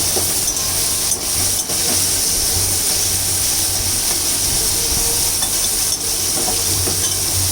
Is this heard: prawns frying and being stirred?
yes